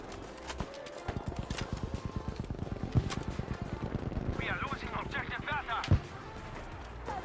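Anti-tank rifle fire in Battlefield V, with two heavy single shots about three seconds apart standing out over a dense rapid rattle of battlefield gunfire and action, moderately loud throughout.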